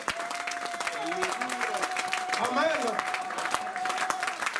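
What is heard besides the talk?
church congregation applauding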